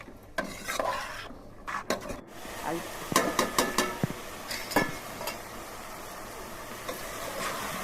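Curry mixture with salt and turmeric stirred in a pressure cooker, a rhythmic series of close metallic scrapes and clinks of a spoon against the pot over a soft background hiss.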